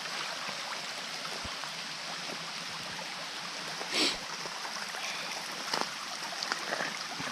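A creek flows steadily during hard rain in Tennessee woods, its broad, even rush of water continuing throughout with a few brief louder splashes and knocks.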